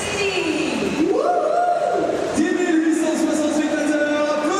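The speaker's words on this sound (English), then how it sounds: "10 860 spectateurs, applaudissements!" A large ice hockey arena crowd roars and applauds at a 2017 IIHF World Championship game, a dense steady wash of noise with a sliding, wavering tone riding above it.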